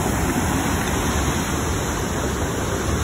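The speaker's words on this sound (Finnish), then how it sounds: "Koski on aika hyvinkin virtaa." Strong river rapids rushing steadily during a long outdoor march near Helsinki, a dense continuous roar of turbulent water that stays loud and unbroken throughout, with no voices.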